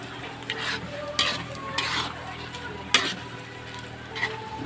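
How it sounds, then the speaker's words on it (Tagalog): Pancit noodles cooking in a pan, a soft continuous sizzle broken by scraping and clinking of a utensil against the pan, several sharper clacks standing out. "Nagluluto ko ng pansit para sa inyo"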